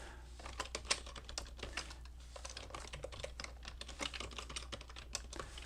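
Quick, uneven keystrokes on a computer keyboard while entering a setting in Visual Studio Code, close and fairly quiet, with a low steady hum beneath and no speech.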